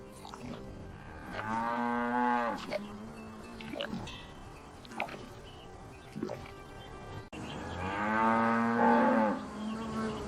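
Cattle moo twice, long drawn-out lowing calls a few seconds apart, heard over a quiet outdoor background.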